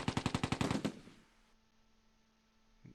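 Machine gun fire in the Close Combat II video game: a loud rapid burst of about ten evenly spaced shots that trails off into a quiet hum, with a faint thump near the end.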